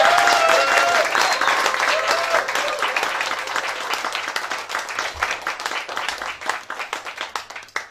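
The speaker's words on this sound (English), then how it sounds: "give a big round of applause" Audience applause at a limerick writing competition final in Limerick, a full crowd clapping loudly and densely before thinning into scattered claps toward the end, with a few voices briefly audible at the start.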